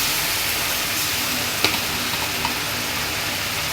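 Ginger garlic paste sautéing in a hot pan for chicken lappa gives a steady close sizzle and hiss, with a couple of faint stirring clicks and no talking.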